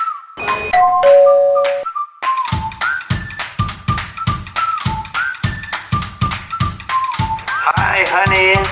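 A Swan Buddy video doorbell plays a bright chime near the start, followed by a steady run of rhythmic tapping beats and tonal jingle notes, loud and up close, with a voice speaking over part of it.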